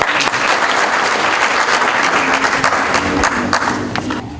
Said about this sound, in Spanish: es el doctor Julio Calderón, a quien vamos a recibirlo con un fuerte aplauso